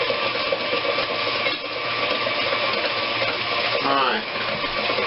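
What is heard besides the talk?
electric mixer mixing banana nut bread batter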